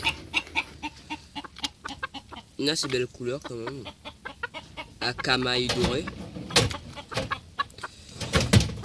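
A five-month-old wild rooster with golden hackle feathers clucks in repeated short bursts close by, while someone talks over and between the calls.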